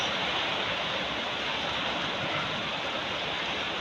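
Torrential typhoon rain from Kristine, driven by strong wind in Tanauan City, pours as a thick, even, loud rushing wash that never lets up, with no voices over it.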